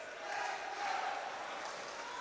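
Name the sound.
ice hockey crowd cheering at Widnes Wild game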